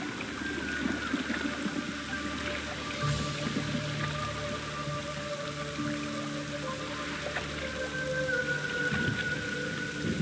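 Rain pouring in The Witcher 3, an even wash of falling drops and splashing on surfaces, steady and close, with faint low rumbling and occasional tonal game sounds underneath.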